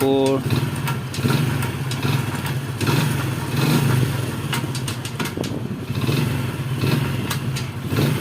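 A Honda XRM 110 motorcycle fitted with a starter, a four-speed gearbox and a kill switch idles steadily, loud and close, with a light rattle and occasional clicks, and a voice talks over it near the start.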